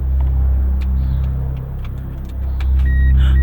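A repaired car engine running unevenly and weakly just after a start, with a steady low rumble throughout that dips slightly midway and swells again, plus faint ticks and clicks on top.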